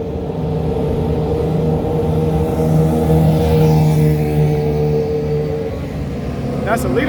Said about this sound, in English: That's a leader bike that just passed. R1.